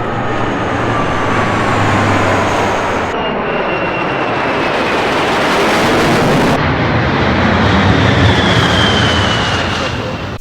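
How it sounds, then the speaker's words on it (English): Propeller airplane passing low overhead, a loud, continuous engine drone with a slowly shifting pitch that swells and fades across the whole stretch, with no other sounds standing out. "Hence the Freedom planes flying overhead every 10 minutes"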